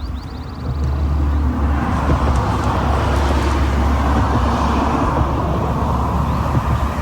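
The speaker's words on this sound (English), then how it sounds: "There's a few cars driving past" Cars drive past on a high-elevation road, a continuous low roar of tyre and engine noise that holds steady at moderate distance, with faint bird chirps near the start.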